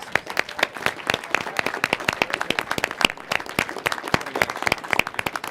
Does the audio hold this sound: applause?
yes